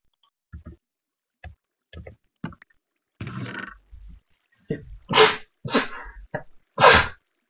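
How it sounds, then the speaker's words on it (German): A person sneezes during Minecraft gameplay, a few sharp, loud bursts close to the microphone, following quieter scattered clicks and short sounds. "musste einmal niesen"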